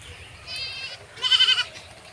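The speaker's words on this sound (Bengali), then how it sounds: "ওই দেখো আমাদের ছাগলগুলো খেয়ে আসছে" Goats returning from grazing on a tea-garden farm let out two nearby bleats, the first shorter and the second louder and wavering, over a quiet background.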